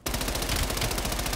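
Shotgun fire in a first-person shooter's search and destroy match, a dense rapid burst of repeated loud blasts that starts abruptly and runs continuously, close and with no voices.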